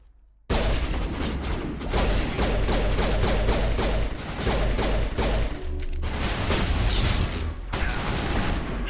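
Pirates open fire in the sci-fi shooter Mass Effect Legendary Edition, dense rapid bursts of gunfire close and loud, continuous fusillade with mechanical clatter and explosive booms, nobody speaking.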